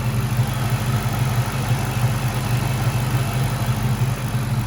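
A 2004 Ford Mustang SVT Cobra engine idles steadily and loudly up close, a continuous deep rumble with a slightly uneven lope and no voices over it.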